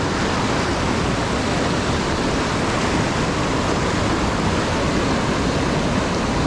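A fast stream rushes downstream beside the Old Sugarlands Trail, a loud, steady, close roar of churning water that fills the whole stretch with no voices.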